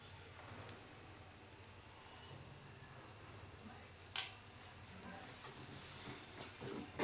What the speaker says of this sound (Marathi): कांदा खोबरं वाटलेला मसाला टाकते